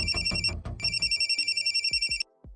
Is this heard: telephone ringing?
yes